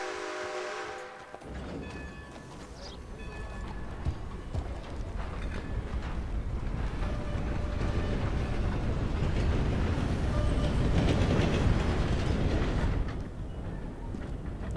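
A steam-era train in the Red Dead Redemption 2 game, its whistle sounding at the start before a steady, loud rolling rumble of wheels and cars builds and holds, then eases slightly near the end.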